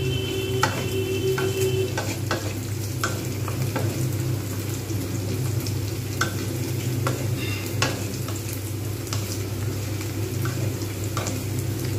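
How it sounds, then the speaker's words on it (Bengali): Chopped onions fry in a pan for Bengali-style moong dal with katla fish head, giving a steady, close sizzle that runs the whole time with faint stirring clicks and no voices. "পেঁয়াজটা কিন্তু খুব সুন্দরভাবে দেখা যাচ্ছে ভাজা হয়েছে"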